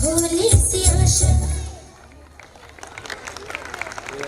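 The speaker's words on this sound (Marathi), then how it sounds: "टाळ्या जोरात झाल्या पाहिजेत" Clapping at a preschool function follows singing with music: the song fades, and lighter scattered applause comes in over the final couple of seconds.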